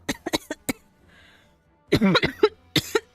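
A person coughs in short, sharp bursts, several quick hacks in a cluster, close to the microphone, with a brief throat-clearing sound mixed in and a quiet pause in the middle.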